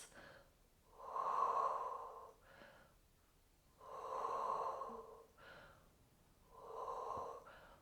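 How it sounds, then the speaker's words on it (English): Three slow, deep breaths during a Pilates exercise for scoliosis, each a long, soft airy inhale or exhale rising and fading, close and fairly quiet, with pauses between them. "just take some deep breaths"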